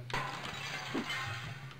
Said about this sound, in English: Good sound effects too, by the way, with the glass breaking.